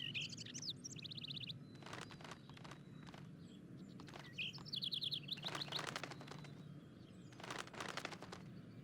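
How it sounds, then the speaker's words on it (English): A wild mockingbird sings in bright, rapid repeated phrases, bursts of trills and chirps coming one after another over faint outdoor background, with soft crunching footstep-like sounds in between. "Mockingbirds are one of the most musically talented of all songbirds."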